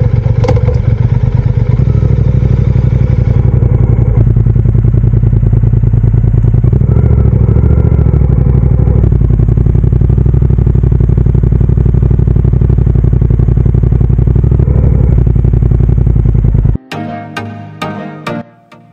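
A Triumph Speed Twin motorcycle runs loud and close, its engine note rising and falling through gear changes for most of the ride before cutting off abruptly into a few sharp clanks and knocks.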